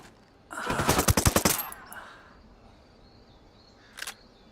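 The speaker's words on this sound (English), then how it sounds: "I'm shooting these fuckers." Automatic gunfire in the video game Ghost Recon Wildlands: a loud, rapid burst of about a dozen shots lasting over a second, then a fading tail and one more short shot a few seconds later. No talking.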